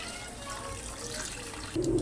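Water poured into a cooking pan holding soy sauce, pepper, oyster sauce and bay leaf for chicken liver and gizzards, a steady soft splashing pour that swells louder near the end.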